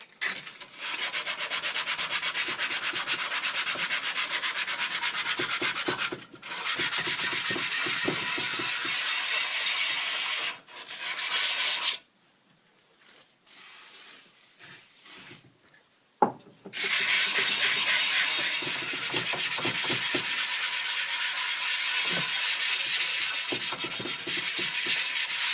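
Sanding scrubs across a rusty cast iron surface in a woodshop, a loud, continuous abrasive rasp. It breaks off briefly a few times and stops for several seconds midway before resuming.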